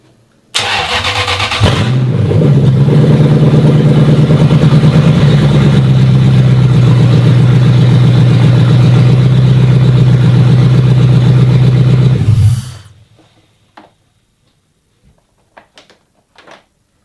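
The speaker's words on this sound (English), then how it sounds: "we've got a running engine" A Toyota 3UZ V8 engine cranks and catches, then runs at a loud steady idle for about ten seconds before shutting off, leaving faint clicks.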